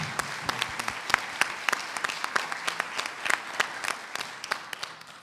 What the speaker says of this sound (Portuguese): queria uma salva de palmas também para quem se dedicou às oficinas